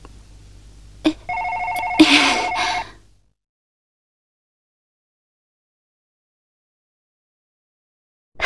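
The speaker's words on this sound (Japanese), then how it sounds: "さ、電話だ。" A telephone rings in the Policenauts video game, two short rings alone then a louder sustained ring, followed by silence.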